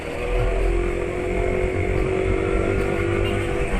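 A two-stroke motorcycle engine, running on 2T oil with Evalube additive, idles steadily up close with a constant buzzing drone and no speech.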